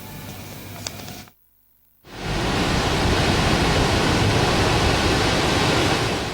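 Heavy surf pounds the shore at Kelating beach in Kerambitan, Bali, during high waves, a loud broadband roar after a brief drop to near silence, steady and close with no voices.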